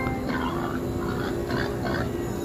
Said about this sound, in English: I hear a pig. I don't see the pig. Where's the pig?